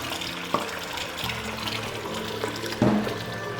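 Water runs into a pot as rice is rinsed once in a kitchen, a steady splashing flow with a couple of sharp knocks of the pot and utensils, close and moderately loud, with no talk.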